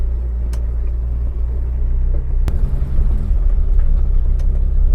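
Citroen DS driving, a continuous low engine and road rumble with a few sharp knocks from the cabin, and no voices.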